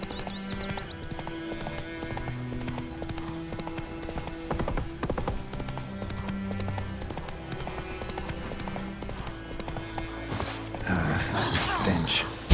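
Horse hooves galloping in The Witcher 3: a steady clip-clop rhythm runs throughout at moderate loudness, beneath game music and ambience, and it swells with a louder burst near the end.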